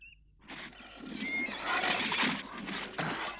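A horse lets out a loud, drawn-out neigh in an animated scene, the whinny rising and wavering for a few seconds before a final bright burst.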